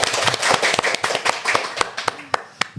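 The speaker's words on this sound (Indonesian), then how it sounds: "Tepuk tangan dulu" Applause from a small group welcoming the founder of a local perfume brand, Sultan Care: a loose scatter of sharp hand claps, some louder and closer, tapering into isolated claps toward the end.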